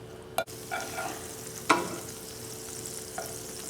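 Butter melting in a pan on a stovetop gives a faint, steady sizzle, broken by a few sharp utensil clicks and knocks against the pan.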